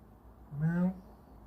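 A house cat gives one short, close murr, a soft rising-and-falling throaty trill lasting under half a second in a quiet room.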